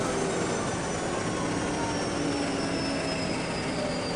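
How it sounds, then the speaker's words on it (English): Loud, steady engine roar with a high whine running throughout, like a gas turbine locomotive gliding into a station close by, with a faint voice beneath. "Turbine engines do make a loud whining noise."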